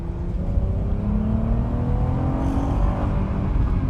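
A Mk1 Audi TT V6 engine revving hard toward about 7,000 RPM, climbing steadily in pitch, loud and close, with a rough throaty growl throughout.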